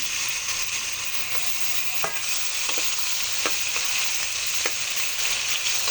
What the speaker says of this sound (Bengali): আমি কড়াইতে তেল দিয়ে দিচ্ছি, এখানে দিয়ে দিব এখন শুটকিটা। আমি শুটকিটা একটু ভেজে নিব